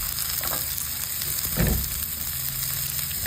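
Long green chili peppers drop into a hot pan of frying aromatics, a steady loud sizzle with a brief surge as they hit the oil, close and continuous.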